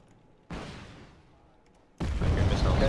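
Missile launches in the Wargame: Red Dragon strategy game, two loud booming whooshes with the first fading slowly and a second, louder blast starting near the end.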